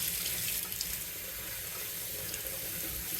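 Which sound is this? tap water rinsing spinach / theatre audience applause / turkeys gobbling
tap water rinsing spinach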